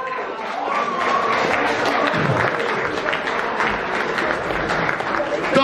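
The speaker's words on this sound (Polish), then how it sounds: "wielkie brawa!" Audience at the final of a rock band competition in Białystok clapping loudly and steadily, close and sustained, with crowd voices and a few shouts mixed into the applause.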